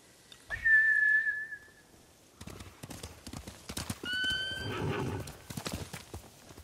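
Horses in the Ghost of Tsushima game gallop with rapid clip-clop hoofbeats, broken by a sharp whinny at the start and another neigh midway, close and fairly loud with no talk.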